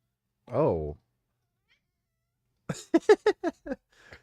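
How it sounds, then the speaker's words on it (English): A small pet cat meows close by, one drawn-out meow followed after a pause by a quick series of short chirping mews, otherwise quiet. "I have a little kitty making noises now, too."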